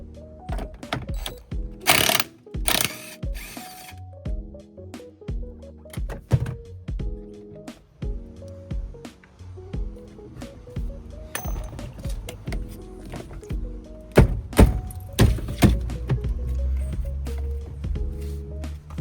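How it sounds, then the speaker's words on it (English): An old Volvo's brittle dashboard is pulled out, bringing scattered thunks, clinks and cracking knocks in irregular bursts up close, with plastic snapping and parts clattering over a faint background hum. "I'm pulling up the dashboard. Things are brittle, so there are a lot of things breaking, falling apart"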